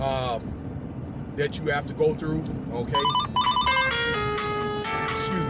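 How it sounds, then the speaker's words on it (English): A telephone ringing during a spoken talk, its bright electronic ringtone notes rising clearly over continuous male speech, playing a short melodic phrase in the last few seconds. "that was a phone call"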